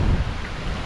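Hurricane wind roars in steady gusts as it buffets the microphone, with water surging in the background and no voices.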